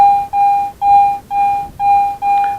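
Garrett metal detector signalling a target on an old road, giving a steady, fairly loud electronic tone in five repeated beeps, each about half a second long with brief gaps, and no voices.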